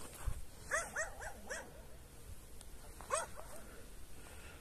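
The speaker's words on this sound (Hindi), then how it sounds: "कुत्ता है जो इधर को देख के जो है ना उस वक्त से भौंक रहा है" Dog barking some distance away, two short bursts of faint yipping barks separated by a pause, quiet against low background hiss.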